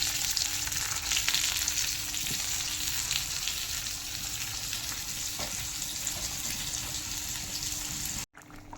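Fish fries in a pan with a steady, close, even sizzle and hiss that holds throughout before cutting off briefly near the end.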